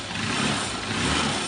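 A Honda Unicorn motorcycle with a battery-charging fault revved in a workshop, a loud close engine roar held steady for a moment without voices.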